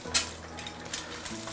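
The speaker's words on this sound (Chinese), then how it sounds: "好，弄点油，把锅润一下，接下来下入鸡蛋" Eggs sizzling in hot oil in a wok over medium-low heat, with a few light scrapes and clinks of a utensil against the pan; close, steady frying with brief metallic accents.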